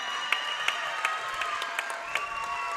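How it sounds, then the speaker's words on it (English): Fans applaud steadily for Portsmouth seniors walking out before a girls' basketball playoff game, a continuous patter of clapping with a few sharper claps standing out inside the gym. "some of the seniors coming out for Portsmouth, and they're getting a round of applause by some of their fans"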